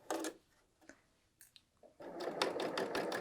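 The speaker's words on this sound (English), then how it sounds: "you can hear just how nice and quiet, and I don't know, I feel like it's a very satisfying sound" A BERNINA L 890 sewing machine stitching a woven top, with short quiet bursts early on, then a steady run of rapid needle strokes through the last second and a half.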